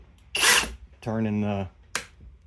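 A cordless power drill whirs in short bursts as the chuck is opened: a brief loud burst, a steadier whine lasting about half a second, then a final quick spin, all close by.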